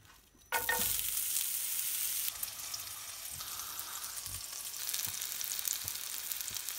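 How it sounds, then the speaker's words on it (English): Bacon fat rendering and onions frying in a pan give a steady, close, loud sizzle with occasional stirring scrapes and no talk. "we're rendering the fat from the bacon so that we can use that bacon fat to"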